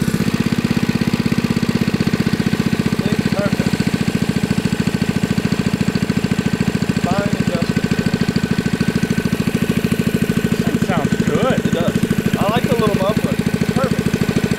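An 80s Kawasaki mini bike's small engine runs steadily with a loud, buzzing, slightly knocking idle throughout, while people talk and chatter over it.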